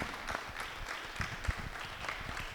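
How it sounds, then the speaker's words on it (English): Audience applause at a film industry day panel on Canadian distribution, a dense wash of clapping from a small crowd, fairly even and moderately loud, with a few sharper claps standing out. "Just wanted to start off with a big round of applause for Nathan Fleet"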